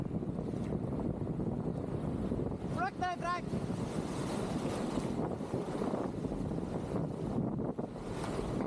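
Strong wind and breaking waves around a sea kayak on rough open water, a steady loud rushing roar with buffeting wind noise on the microphone throughout and a brief voice partway through.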